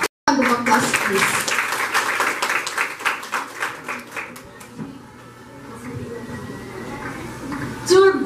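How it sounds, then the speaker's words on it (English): Audience applause at a school debate, a dense burst of clapping that slowly thins and fades over several seconds, with scattered claps and room noise lingering. "Round of applause, please."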